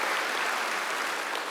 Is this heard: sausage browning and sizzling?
no